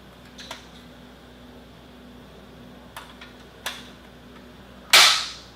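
A Russian AGS-17 Plamya 30mm automatic grenade launcher fires outdoors: a few faint distant clicks and pops, then one sharp, loud blast near the end that rings out and decays.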